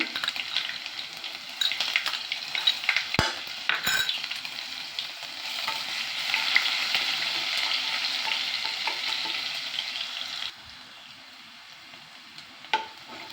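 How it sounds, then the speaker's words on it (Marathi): Mustard seeds, cumin and crushed garlic fry in hot oil, a close, steady sizzle with a few sharp clinks of a utensil. Near the end the sizzle suddenly drops to a quieter simmer. "अर्धा चमचा मोहरी आणि एक चमचा जिरे आणि आपण जे ठेचून घेतलेला लसूण आहे तो याच्यामध्ये"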